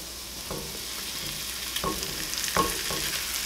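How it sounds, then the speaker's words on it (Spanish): Ginger and garlic sauté in a hot pan with a steady, close sizzle, broken by a few quick stirring scrapes of a utensil; no one speaks. "vamos a sofreírlo más o menos como por unos 2 minutitos nada más"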